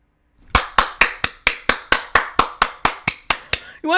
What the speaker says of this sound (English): You want to know why I'm clapping?